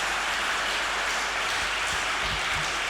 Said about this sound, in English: Clap again for the Lord. You can't stop clapping today.